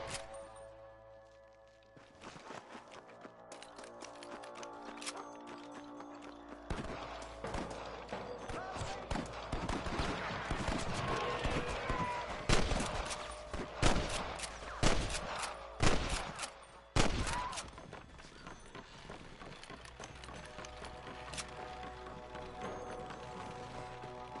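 Gunfire in Red Dead Redemption pops in scattered single shots and quick clusters over ambient noise, with a few sharp, louder blasts near the middle.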